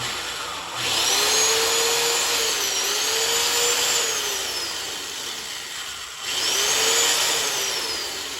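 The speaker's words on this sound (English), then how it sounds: "We're gonna start off with a relatively small drill bit." A power drill whines steadily in two long bursts through metal with a relatively small bit, its pitch sagging under load, with a brief pause between them and no talking.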